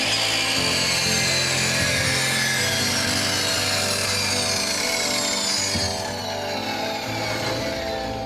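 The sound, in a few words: repaired power saw cutting wood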